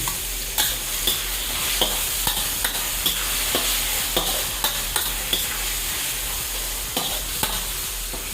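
Beef sizzles steadily in a hot pan while a utensil stirs it, scraping and clacking at a regular pace of roughly one stroke per second over the continuous frying hiss.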